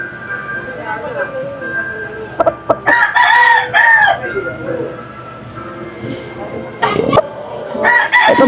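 A bullstag rooster crows in loud, strained bursts close by, with clucking from other fowl and someone talking over a steady background hum.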